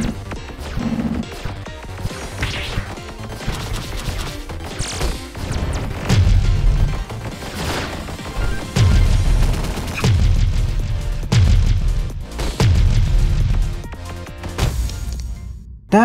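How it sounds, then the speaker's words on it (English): Missiles explode in the game One Step From Eden amid music, bursts of thuds, crashes and booming hits that thicken into a dense barrage midway; no talking. "So I can actually walk through the missiles."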